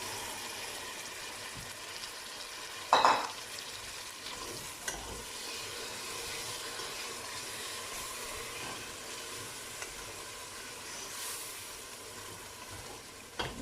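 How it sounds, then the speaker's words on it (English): Skinned, boiled tomatoes sizzle faintly in a pan with a steady soft hiss and a brief clatter near the start. "Love that sizzle."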